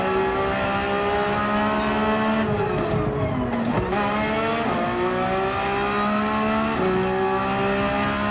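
Race car engine in a Gran Turismo 7 online race, loud revving that climbs through the gears with quick downshifts and braking dips midway, then pulls up again, close and continuous with no talking.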